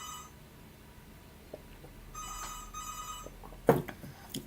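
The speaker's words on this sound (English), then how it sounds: "the phone's ringing" Telephone ringing indoors, a repeated electronic ring in two bursts, moderately loud, followed by a brief sharp knock or clatter.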